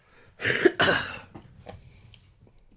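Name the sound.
cough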